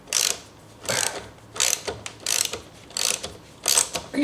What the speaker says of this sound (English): This lug nut feels like it's cross-threaded.